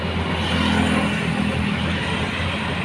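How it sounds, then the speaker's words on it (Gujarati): Road traffic with cars and buses going by: a loud, continuous engine rumble and tyre roar from close vehicles, steady across the short stretch. "કાર ચાલી, બસ જાય,"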